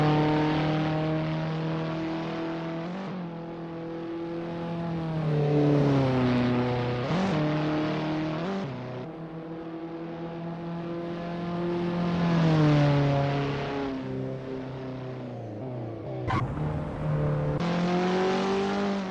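Caterham race car in Assetto Corsa club racing at Croft on an out lap, engine droning steadily near and loud with rising and falling revs through gear changes, alone without talk.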